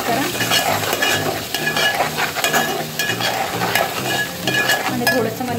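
Spices stirred into a hot pan for egg bhurji curry, with turmeric just added, sizzling steadily while a utensil scrapes and clinks in repeated strokes, close and fairly loud throughout.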